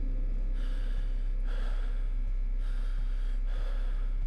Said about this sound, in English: The breathing makes it feel like someone's breathing down my neck.